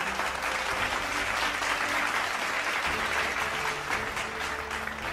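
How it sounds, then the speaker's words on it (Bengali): A crowd gives loud, sustained applause for the first runner-up at the Tiger Run 2025 awards ceremony, a dense, steady wash of clapping lasting throughout with no pause. "আশরাফুল আলমকে আমি আসার জন্য অনুরোধ জানাচ্ছি এবং তার জন্যও একটি জোরে করতালি।"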